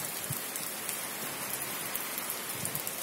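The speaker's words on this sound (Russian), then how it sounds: "и сейчас идет дождь" Steady rain falls across a surface at an Azov Sea beach in Schastlyvtseve, Arabat Spit, a dense even hiss with occasional heavier drops, no voices.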